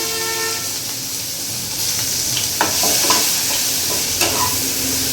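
A large chopped onion sizzles loudly and steadily in hot oil with cumin seeds, with a constant close frying hiss and a couple of soft clicks near the end, no voices.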